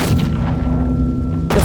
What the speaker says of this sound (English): The force of the explosion sends me hurtling backward